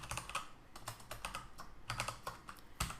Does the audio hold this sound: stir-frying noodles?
no